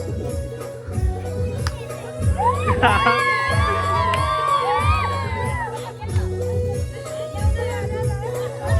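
A lively crowd cheers and shouts over pounding rhythmic dance music at a haldi wedding celebration in Kelavane village, with excited high calls rising in the middle of the clip.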